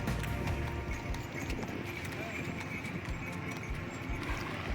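Two horses walk along a cold hillside trail near Guna Cave, their hooves clip-clopping in an irregular rhythm beneath people talking, with steady outdoor noise throughout.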